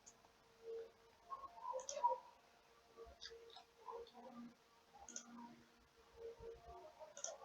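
Computer mouse clicks while working in AutoCAD software, a few light, sharp ticks scattered among faint background noise in a quiet room.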